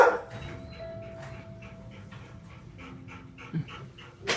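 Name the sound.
dog panting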